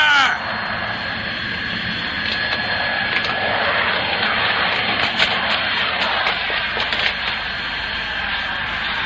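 Steady airplane engine drone fills the scene from start to finish, loud and continuous with a high whine on top, and faint voices nearby blend in under the roar.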